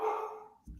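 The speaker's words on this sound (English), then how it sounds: "That's a dog." A single dog bark, short and tonal with a falling pitch, heard close and alone, followed by a brief low thump.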